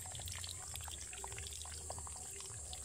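Fresh water flowing in a countryside stream where water spinach grows, a steady faint trickle with scattered drips and bubbling over constant background noise, no voices.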